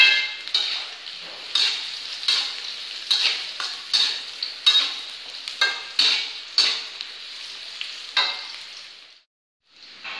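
Fried rice with carrots stirred in a frying pan: a rapid, steady run of scraping spatula strokes over a constant sizzle, close and clear, with no talk and a brief pause near the end.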